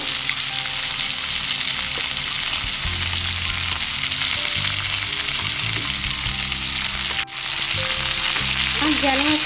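Chopped ivy gourd and onions fry in a kadai with a steady, loud, even sizzle that runs without a break, one brief dip near the end, and a few faint clinks from the pan underneath.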